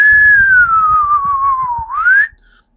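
A single clear whistle into a microphone glides slowly downward in pitch, then rises sharply before cutting off, close and loud with no speech.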